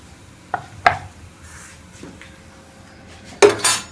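A sugar paratha is moved onto a plate with a few sharp clinks and taps of dishware and utensils. The sounds are scattered across the moment, with a louder clatter at the end, in a quiet kitchen.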